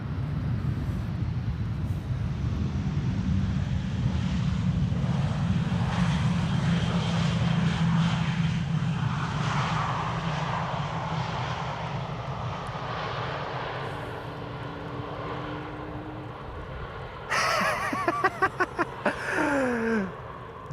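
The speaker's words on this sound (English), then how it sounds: "EasyJet arriving from Belfast." EasyJet airliner arriving from Belfast onto runway 18R at Amsterdam Schiphol, a loud sustained jet engine roar that holds steady and slowly fades, ending with sharper rising tones from a nearer aircraft.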